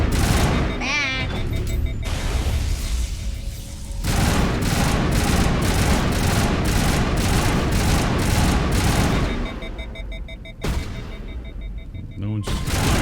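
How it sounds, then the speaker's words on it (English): Gunfire in the video game Mass Effect Legendary Edition, rapid bursts of automatic shots and booming impacts in close succession, broken by short quieter gaps, with voices speaking between and over the shooting. "No one's shooting but you."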